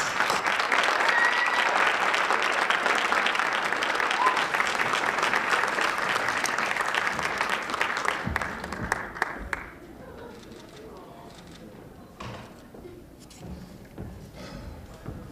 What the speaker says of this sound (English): join me in a round of applause for Kel Jackson.